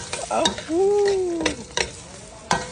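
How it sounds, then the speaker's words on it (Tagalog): Dried fish (tuyo) fries in a pan for a Filipino breakfast. A close sizzle is broken by a few sharp clinks of a utensil stirring against the pan. "magluluto ho tayo ng tuyo"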